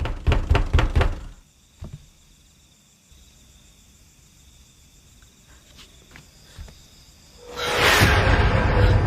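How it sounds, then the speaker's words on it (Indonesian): Hard pounding on a door in a quiet place: a rapid series of loud heavy knocks at the start, then faint ambience with a few scattered small knocks, and a loud rushing swell near the end. "Seusai sholat, tiba-tiba Rini mendengar suara pintu digedor keras."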